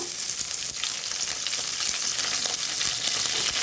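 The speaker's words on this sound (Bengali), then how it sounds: "রসুন টসুনগুলো ভাজা হয়ে গেছে তো আমি এবার পাতাগুলো এবার দিয়ে দেবো এটা ফুলকপির পাতা" Cauliflower and cabbage leaves frying in a pan with garlic, a steady close sizzle with faint crackles and light stirring scrapes throughout, no voices.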